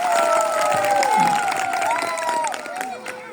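Children cheer and shout in a lively crowd, with clapping mixed into the noisy outdoor chorus of young voices applauding their friends at a school morning event.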